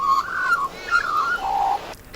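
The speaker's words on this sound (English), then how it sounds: "We're going to play a young magpie call." A young magpie's recorded call plays as a few short, warbling whistled phrases over a faint background hiss, with brief gaps between them.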